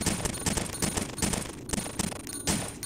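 Rapid bursts of gunfire from the video game Resident Evil: Gun Survivor, a steady run of sharp repeated shots at close range filling the whole stretch with no talking.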